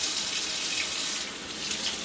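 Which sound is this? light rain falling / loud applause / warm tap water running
warm tap water running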